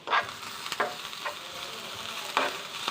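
Drumstick and jackfruit seeds are sautéed in a pan with crushed chilli, green chilli and curry leaves, a close, low sizzle punctuated by several quick scraping stirs of the spatula.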